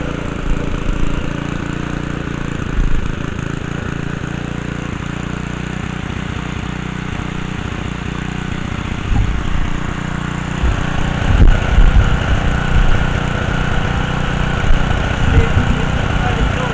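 A small engine on a used tiller idles steadily and loudly up close, a continuous droning rumble with slight unevenness throughout.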